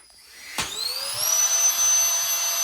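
A vacuum pulling air out of storage bags packed for a move into an ambulance conversion, a steady whirring hum after a sharp click that keeps rising in pitch as suction builds, fairly close and with no talk over it.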